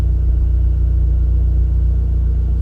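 Big turbo Abarth 124 Spider engine idling smoothly, a steady low rumble with even pulsing held close and constant throughout, no revving and no voices.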